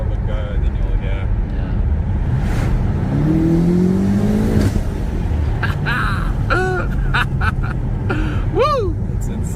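A BMW M8 Competition accelerating hard with the windows down, a loud, steady engine roar heard from inside the cabin, with rising whines and brief passenger exclamations over it.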